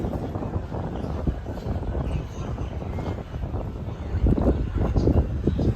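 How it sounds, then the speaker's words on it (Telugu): Wind blows through the open courtyard of the Varadaraja Swamy temple in Kanchipuram, making a steady, close rumble with gusts buffeting the microphone that grow stronger near the end. "గాలి గాలి బాగా వస్తుంది చల్లగా లోపలికి వచ్చినాక మొత్తం ఓపెన్ ఏరియా కాబట్టి"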